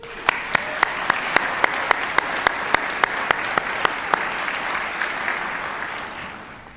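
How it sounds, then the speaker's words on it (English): Audience applause fills the hall at a medical college convocation, with steady, dense clapping that continues and slowly fades. Several louder, sharp claps from near the microphone stand out above it. "Can we give everyone, please, a round of applause?"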